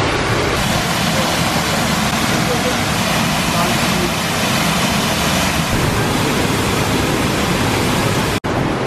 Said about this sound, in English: So you walk through the cave, and also look, the waterfall.